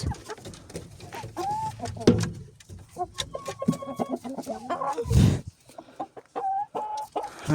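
A flock of Leghorn chickens clucks and squawks nearby in busy, overlapping calls, with a louder burst partway through.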